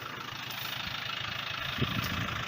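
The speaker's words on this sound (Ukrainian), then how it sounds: "таким тракторцем 30 кінських сил" A Yanmar FX 305 compact tractor, 30 horsepower, running steadily on a hay-mowing job, with a close, continuous mid-low engine drone and a slight bump near the end.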